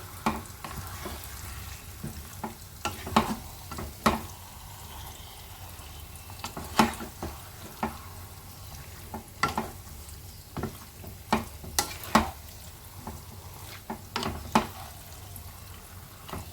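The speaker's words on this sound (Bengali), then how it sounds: "চিকেনটা আস্তে আস্তে অ্যাড করে দিলাম ধীরে ধীরে মশলার সাথে চিকেনটাকে মিশিয়ে নেব" Desi chicken pieces are stirred into spices in a pressure cooker, producing a low frying sizzle broken by repeated scraping and clanking of the spoon against the pot, close and moderately quiet.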